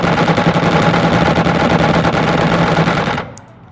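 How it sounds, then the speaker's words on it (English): Rapid machine gun fire from a Condor aircraft in the Xenonauts video game: a loud, dense, continuous rattling burst that stops abruptly after about three seconds. "Let's get the machine guns on it now."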